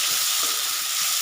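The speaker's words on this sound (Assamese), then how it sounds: "15 মিনিটমান ল' ফ্লেমত এনেদৰে ভাজি ৰাখিম।" Meat frying in a pan over a low flame gives a dense, steady, close sizzle with bright hissing crackle throughout, no voices over it.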